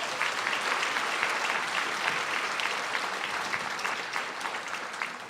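An audience at an annual dinner award ceremony claps in dense, steady applause that fills the room for several seconds without letting up.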